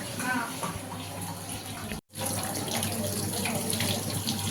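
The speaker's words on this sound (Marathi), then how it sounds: "सो आता आपण याला थंड पाण्याने धुवून घेऊयात एकदा" Cold tap water runs steadily into a sink as boiled soybean chunks are rinsed, cutting off briefly midway and then resuming with a constant splashing flow.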